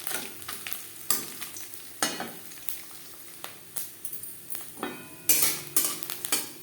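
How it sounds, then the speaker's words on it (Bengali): Grated coconut frying in a pan with bay leaves for a vegetarian pumpkin curry, with a spatula stirring and scraping in repeated sharp strokes over a steady soft sizzle, close and alone. "নারকেল ভাজা হয়ে গেছে"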